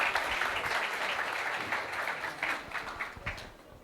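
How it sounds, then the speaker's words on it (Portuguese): A conference audience at a business AI talk claps to welcome a speaker to the stage, soft, somewhat distant applause that holds steady and then thins out toward the end. "Por favor, vamos recebê-lo com salva de palmas."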